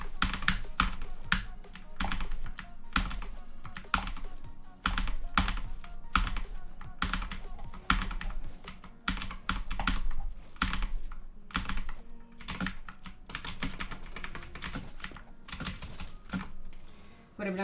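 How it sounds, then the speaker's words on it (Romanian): Rapid, continuous clatter of keys on a Red Dragon Prisma computer keyboard, close and fairly loud, with dense bursts of keystrokes and brief pauses throughout, no talking. "ce tastatura e Red Dragon Prisma"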